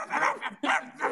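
A dog gives three quick, close barks in a rapid burst, loud and sharp, with no talk over them.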